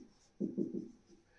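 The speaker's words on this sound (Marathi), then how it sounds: "हे मी थोडं इकडे लिहितो।" Chalk or marker scratches a board in a class 10 maths lesson, a quick burst of several short rhythmic strokes close by, with no voice during the writing.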